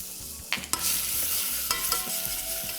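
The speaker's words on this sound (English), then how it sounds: "you need to saute the garlic really well" Garlic sautés in a pan, a steady sizzle with a few sharp clinks and scrapes of a utensil stirring against the pan.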